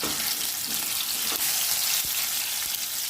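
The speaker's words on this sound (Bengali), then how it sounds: "তো এদিকে আমার তেলটা গরম হয়ে গেছে, মাছগুলো দিয়ে দেবো।" Fish frying in hot oil, a loud, steady sizzle and crackle filling the whole clip without talk.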